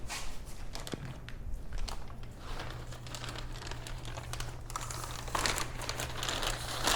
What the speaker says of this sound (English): Now let's grab a zip tie to get this guy to stay on.